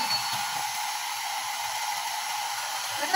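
Blower drying a freshly bathed dog, giving a continuous, even airy whoosh at close range with no breaks.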